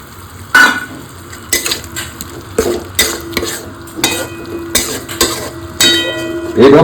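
Tomato added to frying masala in a pan for koi fish curry, with sizzling oil and repeated stirring scrapes of a utensil against the pan, close and loud.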